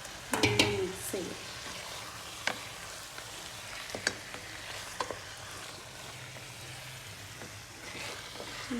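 Chicken curry frying in a pan, a soft sizzle broken by scattered scraping and clanking as a spoon stirs it, fairly quiet and close.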